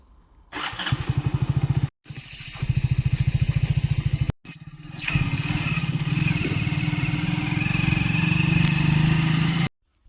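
A motorcycle engine is started and cuts out twice, then catches and runs loudly and steadily up close before stopping abruptly.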